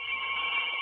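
A telephone bell rings steadily at close range, a continuous bright electric ring with no voices over it.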